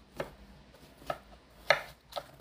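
A kitchen knife slices through a peeled old cucumber (nogak) on a cutting board, making four sharp, separate chopping knocks at an uneven pace, close and fairly quiet with no talk.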